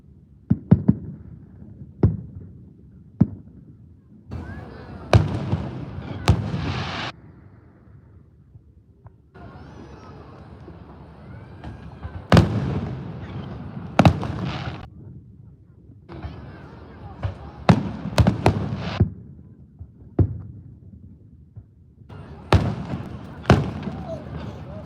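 Fourth of July fireworks burst over a stadium in irregular volleys, with sharp single bangs alternating with dense crackling clusters and rumbling echoes over a steady outdoor background for about twenty-five seconds.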